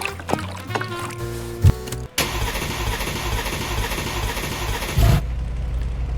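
A truck engine cranks and fires up in Car Mechanic Simulator 2026, with mechanical clatter first, then a steady loud running drone after a brief cutoff and a short rev near the end; no talking.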